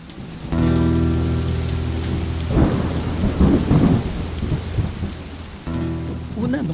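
Heavy rain pours steadily while rolling thunder rumbles loudly in bursts, the downpour hissing throughout and a low droning tone starting and stopping in the background.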